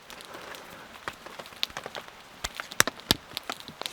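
Rain falling in winter bush at a camp, scattered drops ticking and tapping irregularly on nearby surfaces. The patter is light and close, with no voices.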